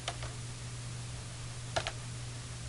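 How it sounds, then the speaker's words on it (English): Quick bursts of typing on a computer keyboard, a few soft clustered keystrokes near the start and another short pair later, faint and close over a low electrical hum. "I'm going to type Linux"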